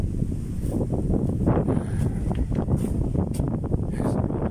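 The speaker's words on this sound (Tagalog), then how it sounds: "Hangin, sobra nakaka-relax." Steady sea wind buffeting a microphone outdoors on an island shore, a continuous low rumble with gusty swells and no voices.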